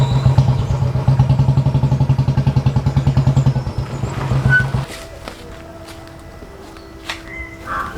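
A Bajaj Pulsar 220 motorcycle engine runs with a steady throbbing idle for about four seconds, then cuts off, leaving faint clatter and light background noise.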